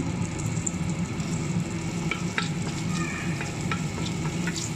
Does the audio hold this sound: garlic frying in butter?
yes